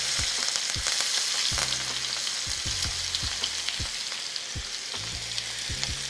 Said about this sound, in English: And then once that butter melts, we'll begin to baste the steak.